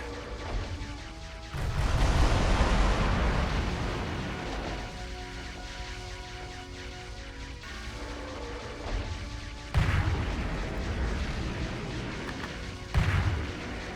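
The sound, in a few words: weapon fire from video game Metal Wolf Chaos XD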